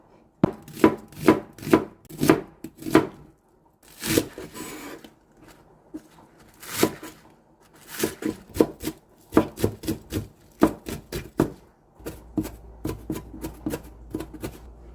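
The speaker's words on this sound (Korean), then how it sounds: "여기에 부재료 썰어 넣겠습니다." Rapid knife chops on a cutting board as vegetables are cut for a spicy crab dish, coming in quick rhythmic bursts separated by short pauses, close and crisp with no talking.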